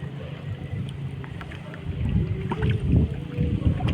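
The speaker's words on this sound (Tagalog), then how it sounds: "Mahangin." Wind buffeting a small fishing boat at sea during squid fishing, a rumbling gusty roar that strengthens midway, with faint water and hull knocks.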